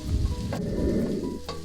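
Green chillies and curry leaves, with a little coriander leaf, fry in hot oil in a pan for Arabic chicken majboos, giving a loud, steady, close sizzle broken by a couple of sharp stirring scrapes.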